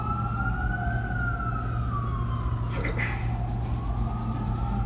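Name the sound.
sirens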